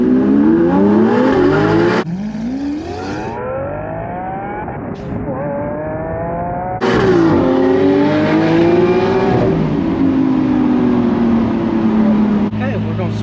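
Ferrari engine accelerating hard with rising and falling gear-change sweeps, loud and close, broken by a brief dip before revving up again, with voices talking over it.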